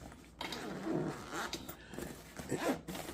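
A zippered hard case for a Veenix V11 mini drone being unzipped, giving a few scratchy, rasping pulls at close range with short pauses between them and no talking.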